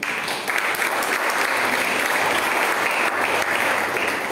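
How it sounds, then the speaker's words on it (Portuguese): A church congregation applauds during a service, a full, continuous burst of many hands clapping at close range, steady and dense throughout with a faint tonal hum beneath. "Você pode aplaudir o Senhor por isso?"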